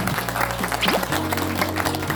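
Audience applause for a lecturer after a talk on name studies and the I Ching, a brief burst of clapping over a sustained low tone, with a voice briefly audible.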